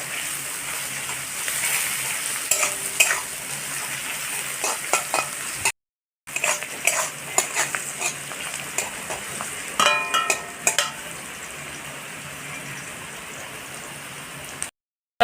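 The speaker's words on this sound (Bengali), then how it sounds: "কাঁচা লঙ্কা পেঁয়াজটা ভেজে নেবো" Green chilli and onion fry in a pan for a rohu fish curry, a crackling sizzle broken by repeated spatula scrapes and taps, with two brief silent gaps.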